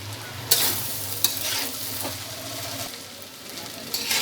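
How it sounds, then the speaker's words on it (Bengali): Chicken fried rice with sauce, tomatoes and black pepper being stirred in a pan, a steady sizzle under repeated scraping strokes of the spatula, close and continuous. "রাইসের সাথে সব কিছু এখন ভালো করে মিশিয়ে দিতেছি"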